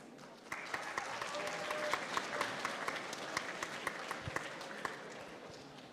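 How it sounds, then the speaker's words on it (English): Steady applause from a large audience at a hackathon closing ceremony, dense clapping with a few sharper individual claps standing out, starting after a brief moment and holding at even strength. "Can we get a round of applause from dudes who came all the way across from Kitchener?"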